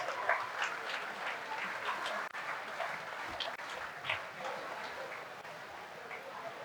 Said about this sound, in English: a huge round of applause for all the grade 10 and 12 students